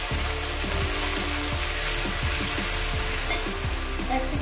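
Tomato frying in a hot pan for a vegetarian jackfruit curry, a loud, steady sizzle that fills the clip, with soft, regular scraping knocks from stirring.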